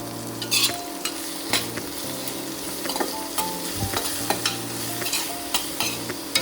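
Cubed potato and carrot with salt and spices are stirred in a hot pan, soft sizzling under repeated scraping and clinking of a spoon against the metal, close and fairly loud, with no speech.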